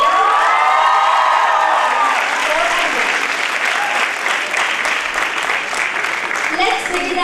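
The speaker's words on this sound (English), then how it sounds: "Can I get a huge round of applause for the" A graduation ceremony crowd breaks into loud applause with cheers and whoops, dense clapping sustained for several seconds while a voice carries over the top.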